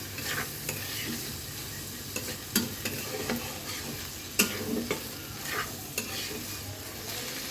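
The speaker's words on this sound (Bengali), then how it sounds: "এরপর সবগুলো একটু নেড়ে নিব হালকা করে আমার এইভাবে ভেজিটেবলটা ভেজে রান্না করতে ভালো লাগে" Vegetables for vegetable noodles stir-fry in a pan, with a continuous sizzle and repeated scraping, clinking strokes of a spatula at an irregular rhythm, close and fairly quiet.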